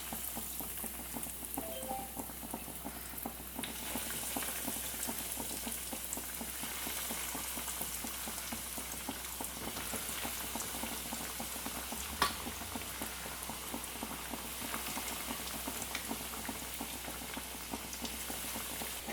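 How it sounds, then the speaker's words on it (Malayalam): Chicken cutlets frying in very hot oil in a pan, a steady, dense sizzle with soft crackling and bubbling that continues evenly for the whole stretch, close by and unaccompanied by talk. "ഇനി നമുക്ക് നല്ല ചൂടായിട്ടുള്ള എണ്ണയിലേക്ക് ഈ കട്ട്ലേറ്റ്സ് ഇട്ട് കൊടുക്കാം"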